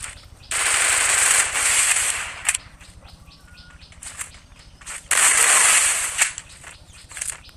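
Bursts of automatic gunfire from a shooting video game ring out in two long, loud sustained volleys, separated by scattered single shots and quieter clicks, with no speech.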